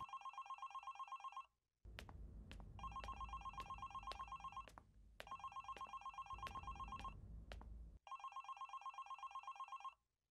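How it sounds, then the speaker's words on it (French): An old-style telephone bell rings indoors in repeated bright bursts, about four rings in all. The later rings sit over a rumbling background of noise and music. "Je crois que le téléphone sonne."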